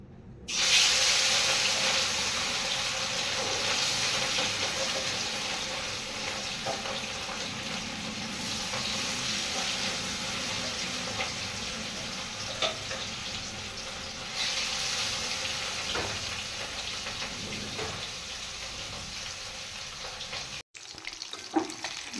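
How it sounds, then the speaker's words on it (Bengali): Pieces of rohu fish fry in hot oil in a kadai with a continuous, close sizzle and crackle that holds for about twenty seconds, with no voices. "তাহলে বন্ধুরা তেল গরম হয়ে গেছে এবার আমি মাছগুলো ভেজে নেব"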